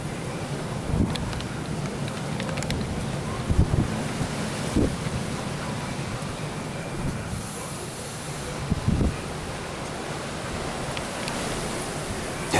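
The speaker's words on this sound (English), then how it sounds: "Predicted wind today was 28 miles an hour." A strong north wind storm in Cal-Nev-Ari, Nevada, buffets a parked vehicle head-on. It makes a continuous roaring rush broken by occasional dull thumps and rattles as gusts rock the body.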